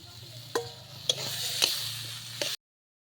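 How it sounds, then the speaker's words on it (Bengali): Fried potatoes being stirred with spices in a pan for a kuche fish dish, four sharp spatula clacks over a soft steady sizzle and low hum, quiet and close, ending abruptly. "হয়েছে, আমি দিয়ে দিব ভেজে রাখা আলু।"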